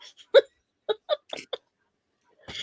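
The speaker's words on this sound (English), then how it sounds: "I got the hiccups" A run of hiccups from one person, several short sharp gulping bursts spaced irregularly, with a faint breathy sound near the end.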